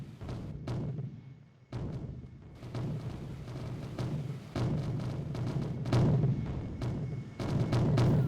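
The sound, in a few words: anti-aircraft artillery fire from airfield in Strike Fighters 2 video game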